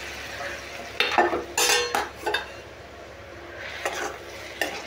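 Boiled field beans being stirred into a masala of turmeric and salt in a pan: short bursts of scraping and stirring with a light sizzle, loud at moments and quieter between strokes.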